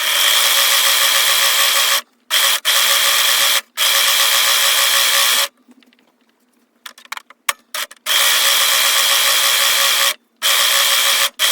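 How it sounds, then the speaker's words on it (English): A serger sewing machine stitches about a quarter inch from the bottom edge of fabric for children's shorts, running in loud steady mechanical bursts with brief stops in between and one longer quiet pause partway through. "I'm serging about 1/4 inch away from the bottom edge."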